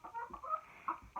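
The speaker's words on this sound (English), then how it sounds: "Miss Hen, are you going to do your thing?" A hen clucks in a few short bursts, close by and fairly quiet, with brief pauses between the clucks.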